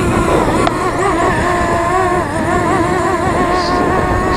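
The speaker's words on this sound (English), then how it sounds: "Alright, the motor fired up." Motors of a JJR/C X6 Aircus GPS drone running steadily outdoors in a park, a continuous whirring hum with wavering pitch that stays loud and close throughout.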